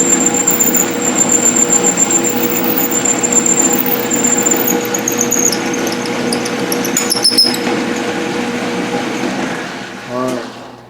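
A 1/2 inch end mill cuts metal while making a thumb screw, giving a steady machine hum and high whine that runs evenly and close, then eases off near the end.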